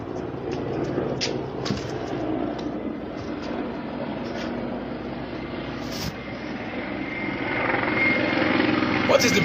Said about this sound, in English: Why is this helicopter moving around this part of Arundi Zogo?